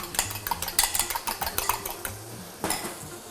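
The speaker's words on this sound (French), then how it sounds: "Je mélange cet ensemble" Spoon stirring a mixture with vanilla sugar in a bowl, a quick run of close clinks and scrapes against the bowl, with a brief pause and one more clatter near the end.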